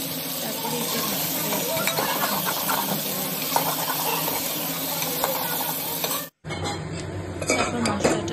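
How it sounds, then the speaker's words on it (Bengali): Potatoes fry in a pan with a dense, continuous sizzle, with frequent clinks of utensils against the pan as they are stirred; a brief dropout comes near the end before the frying resumes. "এদিকে আমি আলুটা ভেজে নিচ্ছি"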